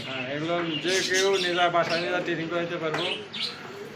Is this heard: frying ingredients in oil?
no